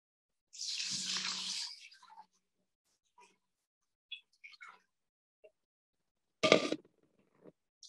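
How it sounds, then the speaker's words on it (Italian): Water poured into a 1.6 kg batch of gelato spread base, a loud splashing pour lasting about a second and a half, followed by faint scattered clinks and a short sharp clatter. "gli aggiungo la mia acqua."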